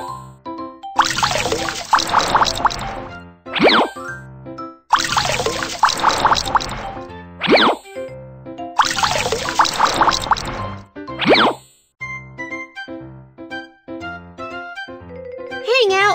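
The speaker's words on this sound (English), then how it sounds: "Tap to wring water out!" Cartoon water wrung out of clothes, three repeated bursts of splashing, trickling liquid, each followed by a bright tone, then light tinkling chimes; loud, close and synthetic.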